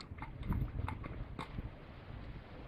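Hooves clip-clop in a loose rhythm as a cob is ridden out through a village, close and fairly quiet, with a few sharper thuds among the steps.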